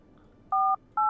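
Two short dual-tone keypad beeps of a phone number being dialed in a horror video game about letting monsters into a house, each clear and steady, the second following after a brief gap over a faint low hum.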